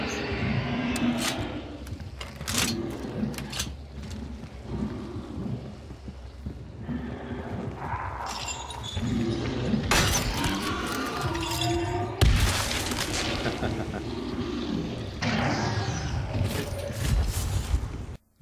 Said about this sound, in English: the explosion of course makes a lot of noise